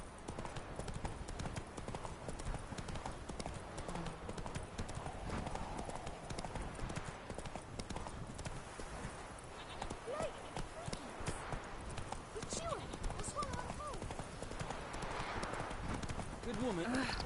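Roach, a horse in The Witcher 3, gallops in a quick, continuous clip-clop of hooves that stays close and steady, with voices talking over the hoofbeats throughout.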